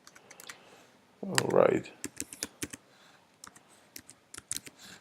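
Computer keyboard keys clicked in quick irregular bursts while a custom password is entered, with a louder voice near the start and short talk over the tapping.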